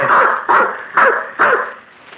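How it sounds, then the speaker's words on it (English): A cocker spaniel barks four times in an even rhythm, each bark close and loud with a slight whining edge, with no talking over it. "I took with me Flush, a cocker spaniel he had entrusted to me"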